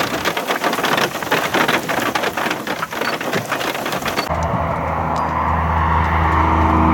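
Heavy rain from a severe storm squall line near Narrabri, New South Wales, drums loudly and steadily on a car driving north up the highway, with a dense roar that shifts to a lower, muffled rumble partway through.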